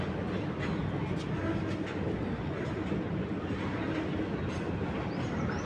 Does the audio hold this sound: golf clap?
no